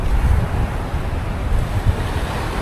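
Gusty wind buffets the microphone over rolling sea waves on a sunny, breezy Camiguin beach, a loud, continuous rumbling surf with no voices.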